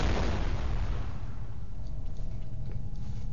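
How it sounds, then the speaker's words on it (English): A loud, low explosion in the video game F.E.A.R. bursts at the start and rumbles off into a fading tail, with no talk over it. "Explosion, huh?"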